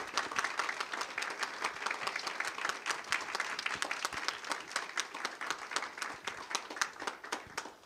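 Sustained audience applause at the closing of a forum on disaster-area recovery, honoring three panelists; dense, steady clapping from a crowd filling the hall throughout, with no speech over it.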